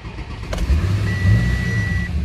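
An Audi Q7 idles and revs steadily up close as it is started and pulled out, with a brief higher whine holding through the middle.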